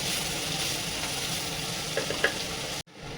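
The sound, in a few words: onions sautéing in a pan for country chicken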